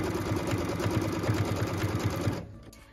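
A sewing machine stitches along a cut line on pieced quilt fabric for a tree-block project, running in a steady rapid rhythmic clatter that is close and continuous, then stopping abruptly near the end.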